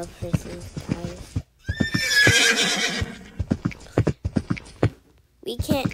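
A horse in a video game whinnies loudly with a long, bright neigh amid the rhythmic clip-clop of galloping hooves, while a player talks over the action before and after.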